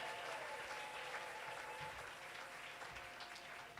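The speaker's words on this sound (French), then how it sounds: "Et on acclame très fort pour Jésus" A church congregation claps loudly for Jesus, a dense, continuous wash of applause filling the room for several seconds without pause.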